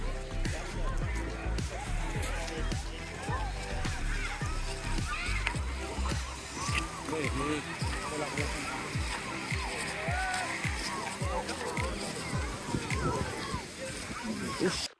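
Children splash in the sea at a beach in Rameshwaram, Tamil Nadu, with repeated sloshing water and lively voices talking and calling over the splashes.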